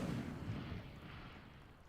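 An Incendio fire spell cast in Hogwarts Legacy, a deep rumbling whoosh that opens fairly strong and fades out gradually over two seconds.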